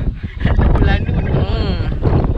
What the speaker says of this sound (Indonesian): Ada suara berangin punya.